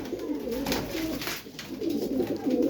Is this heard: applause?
no